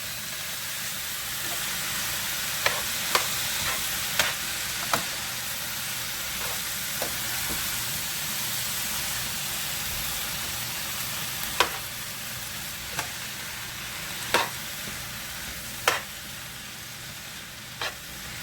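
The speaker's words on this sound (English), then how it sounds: "And now I'm gonna make a stir. And stir it all up." Steamed cabbage sizzles and hisses steadily in a cooking pot while being stirred for a Jamaican dish, with occasional sharp clinks and scrapes of the utensil against the pot breaking through.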